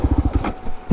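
A Kawasaki KLR650 engine chugs in mud with a few rapid low thumps, then cuts out into quiet, followed by one last faint puff, close by.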